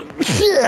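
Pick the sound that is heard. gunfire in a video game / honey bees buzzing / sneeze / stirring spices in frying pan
sneeze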